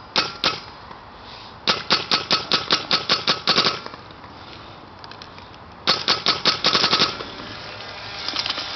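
An ETEK paintball marker fires rapid ramping bursts at about 12 balls per second, three loud close volleys of sharp cracks with a faint pneumatic hiss between them and no talking.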